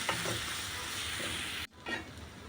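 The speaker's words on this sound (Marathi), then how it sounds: "आता आपण हे मसाले घेतले आहेत ते पण टाकू आणि परतून घेऊ मसाल्यांना पण तेल सुटायला द्यायचं आहे" Spices sautéing in oil in a pan after soft tomatoes, a dense hissing sizzle that cuts off abruptly, then resumes more quietly with a few stir scrapes, close with no speech.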